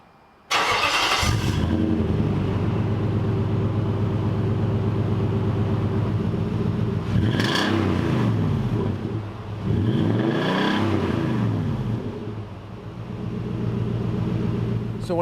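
A VK-swapped truck engine cranks and fires up with a deep, throaty rumble through a full 3-inch exhaust from the Y-pipe, idling loud and close, then revving hard twice before settling.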